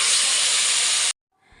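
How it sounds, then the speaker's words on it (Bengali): Loud, bright sizzling as chicken hits hot oil with frying potatoes, a dense continuous hiss that stops abruptly, followed by faint quiet sounds. "আলুটা আমার ভাজা হয়ে গেছে, আর এর মধ্যেই আমি চিকেনটা দিয়ে দিচ্ছি।"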